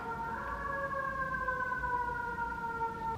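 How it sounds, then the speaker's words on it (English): Emergency sirens wail steadily in the distance in New York City, several tones sliding slowly downward together over a constant city background hum. "there's so many sirens"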